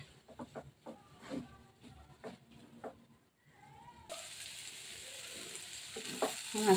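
Chicken fries and is stirred in a pan. Quiet clinks and scrapes give way to a steady, louder sizzle that swells near the end.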